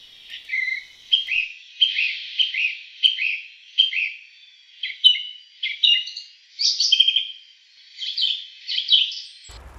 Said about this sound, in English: I heard a lone song thrush,